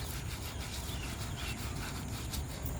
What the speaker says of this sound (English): start scrubbing on this